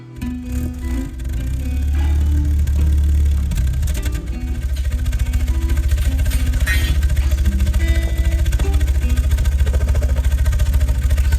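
A 1958 Land Rover Series 1 engine idles through a new exhaust system with a low, steady throb, loud and close, with some faint clatter and a rise in level after the first few seconds.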